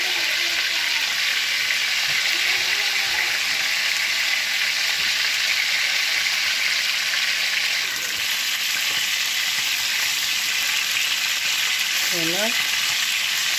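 Onions frying in a pan, a continuous even sizzle, close and steady throughout, with a brief voice-like sound near the end.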